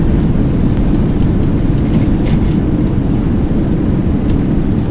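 Thrust reversers roar on a simulated Boeing 737-800 just after touchdown in X-Plane 11, a loud, steady, deep rumble of engine noise that fills the whole stretch without letup.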